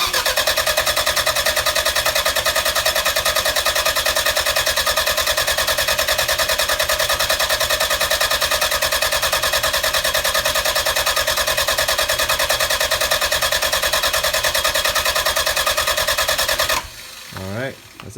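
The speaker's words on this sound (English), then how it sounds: "I'm going to go ahead and prime the engine for about maybe" A 1995 Toyota MR2 Turbo 3S-GTE cranks on its starter with fuel disabled to prime the oil, a loud, even, rapid churning that runs steadily for about seventeen seconds and then cuts off.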